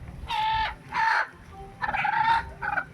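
A chicken being taken to a mosque for slaughter gives four loud, harsh, squawking calls in quick bursts, with brief pauses between them and no talking.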